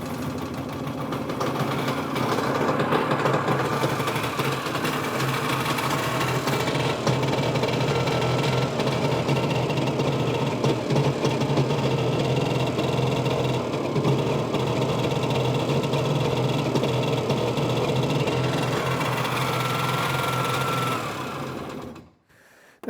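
A 1973 Cushman Trackster engine with a failing charging system runs at a steady, loud idle with a buzzing, knocking clatter for about twenty seconds, then shuts off abruptly at the end.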